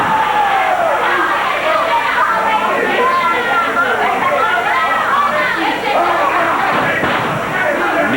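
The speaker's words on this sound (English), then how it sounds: "Crowd yelling at Tojo Yamamoto." A wrestling arena crowd yells and jeers at Tojo Yamamoto during a Memphis tag match, a loud continuous roar of many voices with thuds from the ring.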